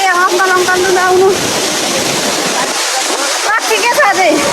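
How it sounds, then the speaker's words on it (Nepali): Lauke waterfall in Nuwakot, Nepal: a constant, loud rush of splashing water fills the scene close by, with people talking over the roar at the start and end. "झर्ना त यहीँबाट देखिरहेछ त हामी कहाँ छौँ हामी झर्नामा छौँ"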